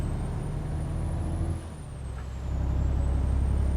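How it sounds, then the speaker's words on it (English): A heavy truck in Euro Truck Simulator, fitted with Cascadia parts and an automatic gearbox, hums steadily, drops briefly as it shifts gear, then loudly hisses its air brake. "Yeah, that's pretty realistic shifting, I gotta say, for an automatic."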